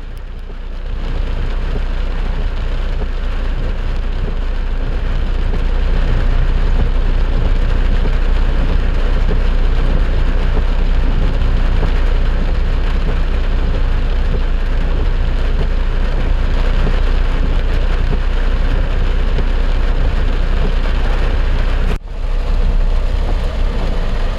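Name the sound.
heavy rain in Bengaluru with vehicles on flooded road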